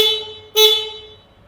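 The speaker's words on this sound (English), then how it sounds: "You have the horn here which sounds like this" A single short electric horn beep from a Pure EV Etryst 350 electric motorcycle, sounding close and bright, with a faint steady tone audible before and after it.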